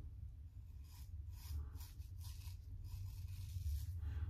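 Slow razor pass across a face on a wet shave, a soft raspy scrape under faint low background hum, steady and close, no talk.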